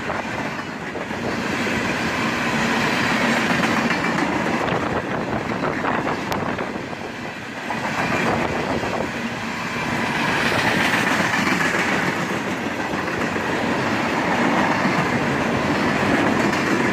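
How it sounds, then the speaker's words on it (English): CSX freight train of fast empty cars rushing past over the rails, a loud continuous roar with rattling clickety-clack and rumbling, heard close with wind buffeting the microphone, no talking. "The sound of these fast empties flying over the rails is awesome"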